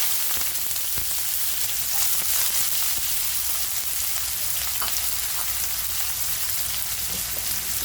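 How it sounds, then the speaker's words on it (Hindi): Onions frying in a quarter cup of hot oil with cumin and garam masala, a dense, continuous bright sizzle with a few faint crackles and pops, close and steady with no talk. "तड़क के हो गया प्याज"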